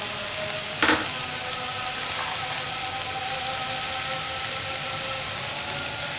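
Tomatoes fry in a pan for beans curry with a loud, continuous sizzle, and a single utensil clank sounds near the start.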